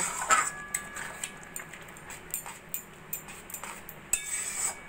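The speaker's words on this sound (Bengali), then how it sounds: "নাড়াচাড়া করে সবকিছু ভালো করে মিশিয়ে নেব" Caramel semai payesh with rose water being stirred in a pan on the stove, producing faint, irregular clinks and taps of a spoon against metal, spaced over several seconds with no voices.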